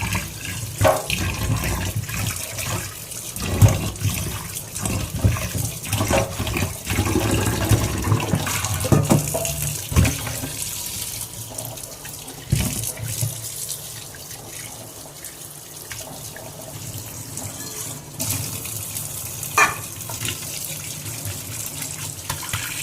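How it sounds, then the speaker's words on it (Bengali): Fish is washed under a running kitchen tap, a steady close stream of splashing water broken by sloshing and handling sounds as the flow shifts. "এখন মাছ ধোয়ার পালা, রান্না করতে হবে।"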